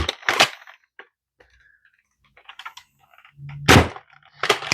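A Dart Zone Max Stryker Nerf-style blaster firing full-length darts gives a few sharp, close pops, two near the start and two more near the end, with a faint mechanical rattle and quiet stretches between them.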